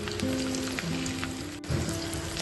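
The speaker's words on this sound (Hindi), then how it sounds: "उसके बाद इसमें डालते हैं कटे हुए लहसुन" Garlic sizzles steadily in hot oil after a bay leaf tempering, a close, continuous crackling hiss with a faint tonal hum underneath.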